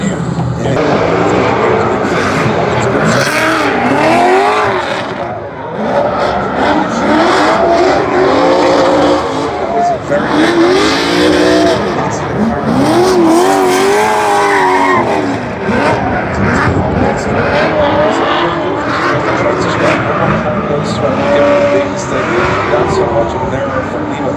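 HGK Eurofighter race car with a 454 small block making 700 horsepower revs and accelerates hard during a qualifying round at Kern County Raceway, loud and continuous with rising and falling engine pitch and tire squeal, with a commentator talking over it.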